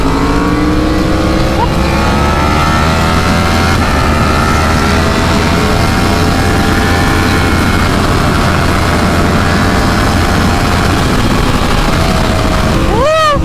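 A 2025 Ducati Panigale V4 sport bike is ridden in third gear, its engine loud and close as it holds a steady rising drone, with a brief higher whine right at the end.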